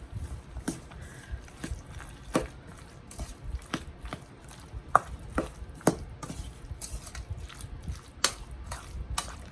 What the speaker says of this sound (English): And then you're just going to mix all that together.